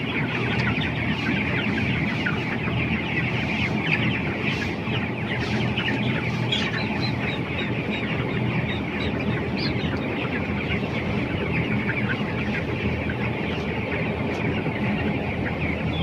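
Broiler chickens, 8 to 21 days old, cluck and chirp as a dense flock while eating pelleted feed, a steady busy chatter of many birds indoors with no human voices.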